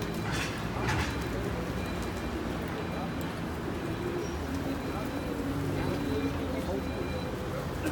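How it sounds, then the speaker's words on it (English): Pigeons being fed on a city street in central Sofia coo faintly amid a constant wash of outdoor street noise, with people talking nearby. "She's feeding the pigeons and doing some begging meanwhile."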